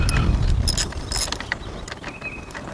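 A ratchet with a 13 mm deep-well socket loosens the battery terminal on a 2017 Chevrolet Silverado, producing close metallic clicking and scraping bursts that ease off toward the end, with no talk.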